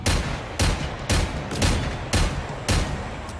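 Generation Zero's Magnus gun fires six heavy, evenly spaced shots about half a second apart, each a loud, booming blast with a short echoing tail.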